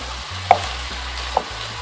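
Cauliflower pieces for dry-style Kerala gobi manchurian being stirred as they fry, a steady close sizzle with two sharp utensil clinks against the pan, no voices.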